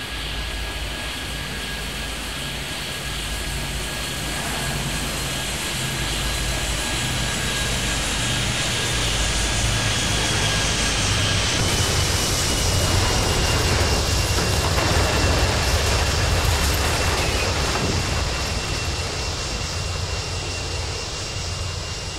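Jet airliner engines in a mobile flight simulator game roar steadily and build in intensity during a takeoff run, a continuous loud whine and rumble sustained for the whole stretch.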